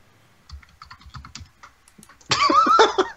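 Quick bursts of keyboard typing, light clicking keystrokes, followed by a louder, denser flurry of key presses up close, with no voices.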